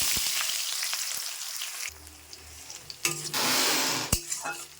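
Cumin seeds and onion tempering in hot oil, a broad hiss of sizzling that swells loudly after each addition, with a few faint clinks of a utensil against the pan.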